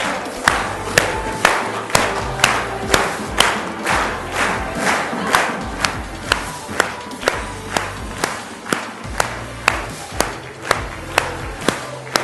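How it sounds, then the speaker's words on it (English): Workshop participants at a performance coaching session clap in a strong, regular unison rhythm with a loud beat, while scattered cheers and shouts rise over the music-driven pulse. "Let's stand up, let's clap, let's get the energy going"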